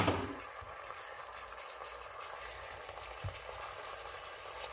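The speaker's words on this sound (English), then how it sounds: "what I'm about to do now is add the rest of the sauce that was in the bag with the marinating" Chicken with its marinade sauce sizzling in a Ninja cooking system, a soft steady crackle and hiss after a brief louder splash of liquid at the start, faint and continuous with no talk.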